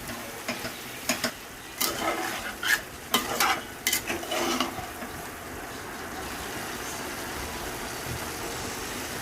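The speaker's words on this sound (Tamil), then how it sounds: "நல்லா கிண்டி விட்டுட்டு" A spoon stirs chicken curry in a pan after home-ground chili powder has been added, scraping in several short bursts during the first five seconds. Quiet background noise follows, with faint sizzling.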